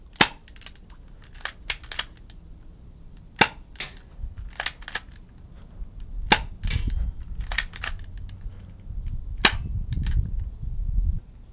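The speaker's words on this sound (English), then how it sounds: "So we will be aiming at the grill, make a nice ping." A Crosman Stinger P32 airsoft pistol, a 1911 Colt Defender style, fires BBs at a grill, giving a series of sharp, close snapping shots at irregular intervals with faint metallic pings.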